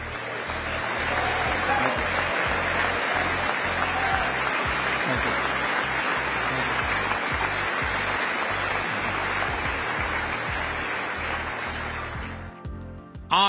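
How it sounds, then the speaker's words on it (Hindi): A large audience claps heavily and continuously through Prime Minister Modi's speech during his U.S. visit, a thick wash of applause holding steady before cutting off at the close. "इस दौरान जमकर तालियां गूंजती रहीं।"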